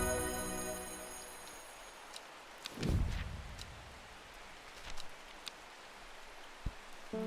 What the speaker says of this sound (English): That rain is so nice.